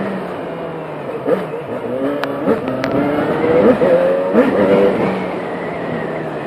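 A Yamaha XJ6 motorcycle running with no exhaust fitted revs up in a few rising and falling bursts, close and fairly loud, with its raw engine note holding steady between throttle blips.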